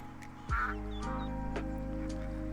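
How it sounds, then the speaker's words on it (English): Ducks quack close by, a few short honking calls over a steady low background hum. "there are actual ducks hanging around here"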